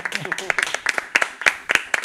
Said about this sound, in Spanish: Creo que podemos hacer un aplauso aquí, desde aquí.